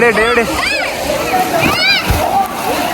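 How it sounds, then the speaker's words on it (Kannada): Water splashes and sloshes at a swimming pool, loud and close, while children shout and talk excitedly over the splashing throughout. "ನೀರು ಎಗಿಸ್ದ ಗಾಯ್ಸ್. ನೋಡ್ರಿ ಬಟ್ಟೆಗೆಲ್ಲ ಎಗಿಸ್ತ"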